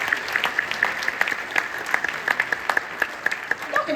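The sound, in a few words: audience applause for the band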